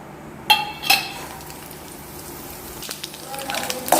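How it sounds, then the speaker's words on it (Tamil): Ingredients frying in oil in a wok, soft continuous sizzle with a couple of sharp metal clinks from a utensil against the pan, plus light scraping near the end. "இதை நல்லா இப்போ வந்து வானலில் வதக்கி மாவில் ஆட் பண்ண போகிறோம்"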